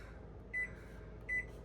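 Two short electronic beeps sound from the clock button on a microwave oven inside a 2026 Forest River Rockwood Ultra Lite 2608BS travel trailer, evenly spaced and fairly quiet over a faint background hum.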